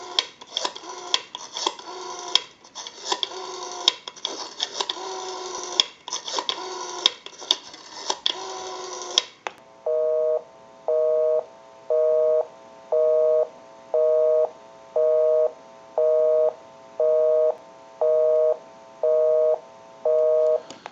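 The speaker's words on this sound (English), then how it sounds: "We'll call my number and it'll be busy." A repaired and converted Spacesaver desk telephone dials a number in a quick burst of tones, then a busy signal pulses in an even on-off rhythm, loud and close, with no talking.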